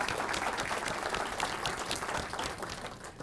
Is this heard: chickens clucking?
no